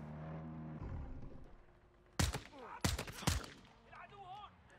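Gunfire in Call of Duty: Modern Warfare 2, with three loud, sharp bursts of shots close together over low game ambience, followed by quieter rumbling background noise.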